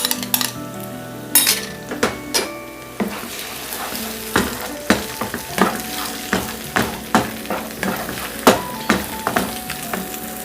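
Two eggs stirred into fried onions in a pan, with a spoon or spatula knocking and scraping against the pan in a loose, irregular rhythm over a soft sizzle, close and clear.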